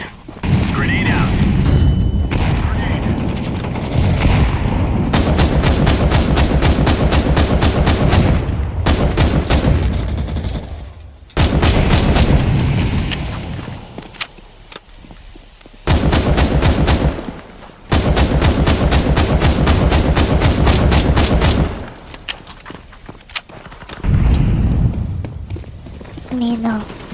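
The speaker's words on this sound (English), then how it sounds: "Throwing flashbang. Throwing fire. Grenade out." Grenade blasts and bursts of gunfire in a first-person shooter video game, loud and dense, coming in long stretches of rapid firing broken by brief pauses, with a voice talking at points.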